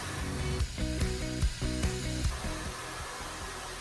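A hair dryer blow-dries a man's short hair at home, a loud, close, continuous whoosh whose pitch wavers as the airflow is directed and briefly dips, with no talk.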